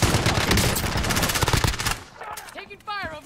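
Rapid automatic gunfire in a multiplayer shooter rattles loud and dense for about two seconds, then cuts out, leaving sparse shots and a voice talking over the quieter tail.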